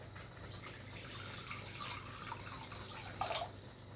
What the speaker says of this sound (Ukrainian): В одну малята ми наливаємо водичку.